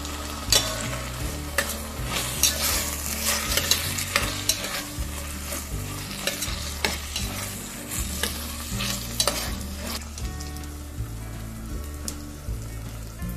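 Two large onions frying in oil until golden brown, a loud continuous sizzle with repeated spatula scrapes and stirs rhythmically breaking through, close and steady.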